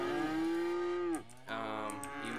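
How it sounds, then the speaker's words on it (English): Cattle mooing in the Cities: Skylines farming game, a long sustained low moo followed by a second moo after a short pause, loud and close with no talking. "we got some cows"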